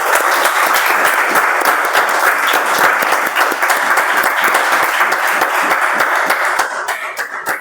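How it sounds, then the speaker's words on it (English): A meeting audience claps together in sustained, dense applause, loud and even throughout before thinning slightly near the end. "Can I have a big round of applause for each one of us here?"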